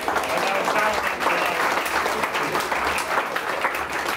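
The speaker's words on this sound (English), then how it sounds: "Give them a big round of applause." Loud, dense audience applause at a charity music event in the Cavern, a sustained crowd clapping that fills the whole stretch without letup.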